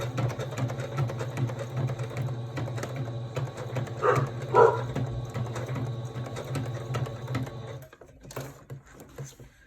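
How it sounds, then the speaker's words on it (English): A sewing machine reverse stitches a fabric face mask, giving a steady close whirring hum with light mechanical chatter. The hum stops abruptly near the end. "And then reverse stitch it one time."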